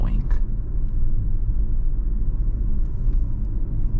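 A Renault Captur Esprit Alpine 2025 facelift drives at night, giving a steady low road rumble and engine hum that holds evenly throughout, with a voice talking over it.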